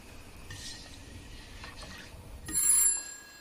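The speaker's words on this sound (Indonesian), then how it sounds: "Di waktu yang bersamaan, Gray menerima telepon dari Emily" A telephone rings in a film scene, a bright ringing burst near the end that follows softer, fainter tones over a low background hum.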